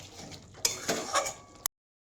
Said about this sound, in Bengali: এবার আরও ভালোভাবে নাড়িয়ে নেবো আবার সুন্দর করে